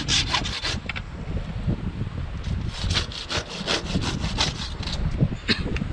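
A hand saw cuts through the thick roots of a small-leaf Hai Chau tree dug up in a forest, giving steady, close rasping strokes in a quick back-and-forth rhythm with no pauses.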